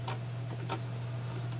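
Logitech MX Master wireless mouse clicking and scrolling, giving a few soft, close ticks over a steady low electrical hum, with no voices.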